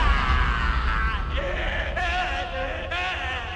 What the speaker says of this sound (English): This scream was taken from the producer's cut, which was the last sound Donald Pleasance ever uttered on film.